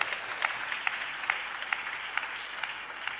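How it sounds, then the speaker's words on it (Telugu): Church congregation clapping in a steady rhythm, a broad wash of many hands with regular accented beats, moderately loud and sustained without speech. "చప్పట్లు కొడుతూ స్తోత్రాలు చెప్తాం."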